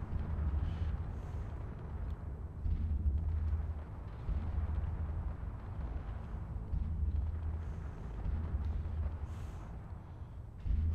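A turret fires and structures explode in the Space Engineers video game: repeated low, booming blasts and rumbling bursts that rise and fall in waves and keep going throughout, heavy and continuous with no one speaking.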